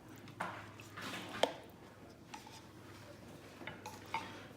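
A spoon scrapes and clinks against a pot while cornstarch is stirred into a thick ham and potato soup, with soft liquid swishes and occasional sharper taps, close up and fairly quiet.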